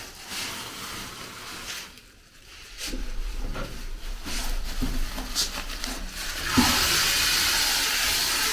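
Millet grains are rinsed in water to clear out stones and dust. Sloshing and splashing come in uneven bursts at close range, with a steadier wash of running water near the end.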